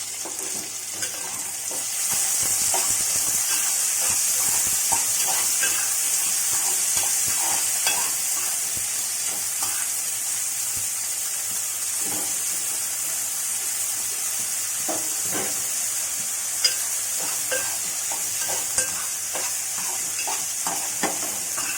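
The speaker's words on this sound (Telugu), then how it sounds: "బఠానీలు వేసుకోవాలి, వేయించుకోవాలి" Green peas stir-frying in a pan for a street-style aloo samosa filling give a steady sizzle with scattered scraping and stirring clicks, close and continuous, with no voices.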